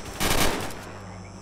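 A short burst of rapid automatic gunfire from enemies shooting through the floor in the S.T.A.L.K.E.R.: Call of Pripyat game, loud and brief, then fading into a lingering echoing tail.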